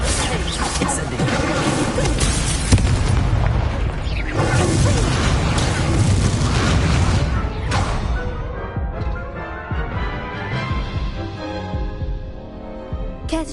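Fire spell blasts and crashing impacts from Hogwarts Legacy combat, loud and continuous over dense game music and effects, with a bright burst near the start and a spoken voice mixed in.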